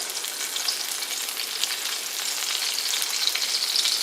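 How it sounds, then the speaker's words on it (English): Duck magret cooking in plenty of its own rendered fat in a casserole: a close, steady, bright sizzle with dense crackling spatters, continuous and unbroken, with no voices. "So the Magret is cooking, and as you can notice, there's a lot of fat."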